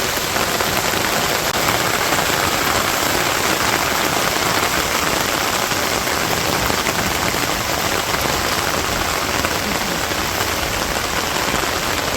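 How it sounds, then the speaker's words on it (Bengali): Steady, dense rain drums on a village rooftop, a loud unbroken wash of drops with no gaps and no voices throughout. "ভালো বৃষ্টি নামতেছে"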